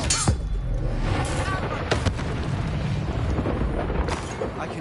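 Harry Potter Expelliarmus spell blasts, a few sharp bursts at roughly one-second spacing over a continuous loud rumbling roar of magical effects.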